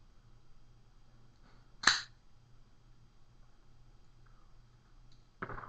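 A cigar, a Casa Magna Colorado Diadema, being cut: one sharp, crisp snip close up in a quiet room, followed a few seconds later by a second softer click.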